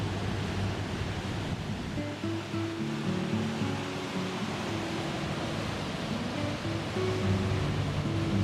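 Roaring rush of water at Niagara Falls, a broad steady wash of noise like surf that continues without break, with a faint low tonal hum beneath it and no talking.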